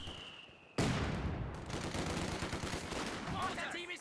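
Sustained automatic gunfire in the real-time strategy game Company of Heroes 2 as a machine gun suppresses an infantry squad, a dense continuous rattle that bursts in suddenly after a quiet start and holds steady and loud.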